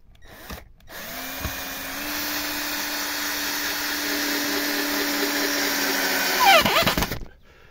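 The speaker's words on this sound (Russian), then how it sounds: "И с помощью второго шурупера закручиваю." Cordless screwdriver driving a screw into a timber fence post outdoors, a steady rising motor whir lasting several seconds, close and loud, ending with a brief strained grind as the screw seats.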